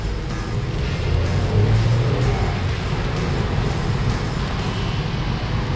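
A 2018 BMW X1 sDrive18i with a 1.5-litre engine revs steadily, a low, even engine hum holding close and fairly loud for several seconds without talk.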